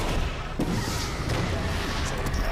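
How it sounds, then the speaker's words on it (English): Rumbling booms and blasts from explosions in the animated series Young Justice: Phantoms, a dense continuous barrage filling the whole moment with heavy low-end thuds and sharp cracks. "A lot of explosions."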